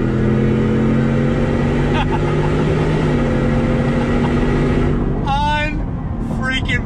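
A 2020 Shelby Super Snake F-150 pickup truck accelerating hard on the road, its loud, steady engine drone climbing in pitch from inside the cab before a sharp shift near the end.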